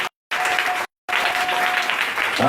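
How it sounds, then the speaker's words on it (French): A church congregation at a French-language service claps together in sustained, dense applause, broken by two short silent gaps, with no voices over it. "Acclame Jésus pour cela."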